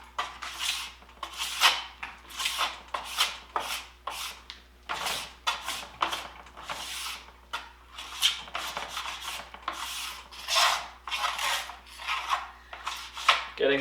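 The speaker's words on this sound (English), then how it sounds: "And then follow with your scraper." A plastic scraper drags glide wax off the base of a cross-country ski in quick, uneven back-and-forth strokes, close and raspy, with no one speaking.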